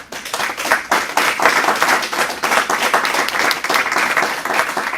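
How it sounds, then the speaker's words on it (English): Sustained applause from a conference audience honouring the speakers, dense steady clapping filling the room at a loud, even level throughout. "Let's give a round of applause to the speakers."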